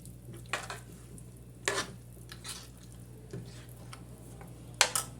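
Ground spice paste being stirred into mutton chaps in a pot: a few soft scraping and clinking knocks of a spoon against the vessel, faint and irregular, over a low steady hum.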